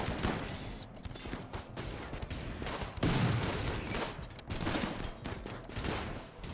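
Rimworld combat with rapid, scattered gunfire: bursts of shots and crackling volleys keep going without a break over a busy game background.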